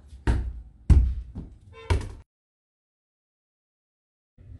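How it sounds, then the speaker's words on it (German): A football kicked toward a goal, several dull close thumps within two seconds, then near silence before a faint return of sound at the end. "Ich schieße auf das Tor."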